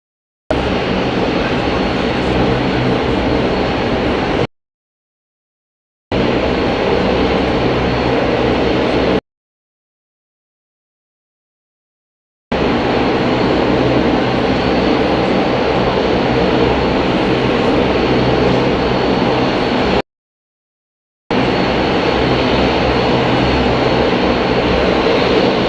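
A jet airliner taxis out of its stand at Hamburg Airport, a loud, steady engine roar and whine that cuts out abruptly several times before resuming at the same level.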